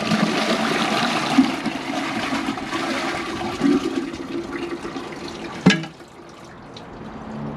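A toilet, either an American Standard Cadet 3 or a Kohler Highline, is flushed with latex gloves in the bowl: a loud rushing flush, a sharp clunk near the end, then quiet trickling water.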